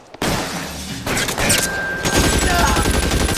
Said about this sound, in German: Eine Schnellfeuerwaffe.